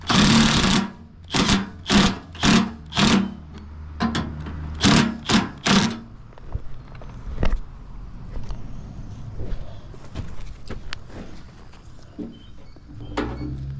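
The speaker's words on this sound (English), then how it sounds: "tighten them down. With my impact." An impact wrench tightens bolts on a motor mount during an engine install, firing a run of sharp, rattling bursts close by. Quieter clanks and shop noise follow.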